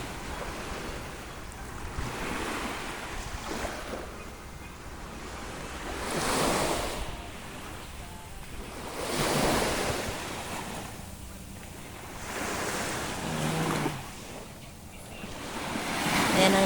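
Sea waves roll onto the shore at Dauin seaside in Negros Oriental, surging in broad swells every few seconds under gusty wind buffeting the microphone, with no voices.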